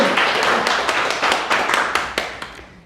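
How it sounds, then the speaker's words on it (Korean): A lecture audience at a Won Buddhist temple claps warmly together, a dense, steady wash of many hands with sharp individual claps standing out, gradually thinning and fading toward the end. "다시 힘찬 박수로 보내겠습니다"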